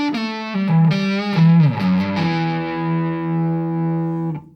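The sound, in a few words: electric guitar with round warm tone driven slightly fuzzy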